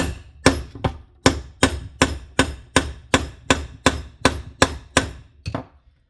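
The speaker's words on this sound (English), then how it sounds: "I'm just hammering the shit out of it" A hammer pounds the back of a Wera 900 chisel screwdriver into soft pine, giving about a dozen loud, close knocks in a steady, even rhythm before stopping, with no voices.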